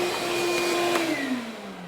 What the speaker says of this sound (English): I'm gonna vacuum up all these metal shards.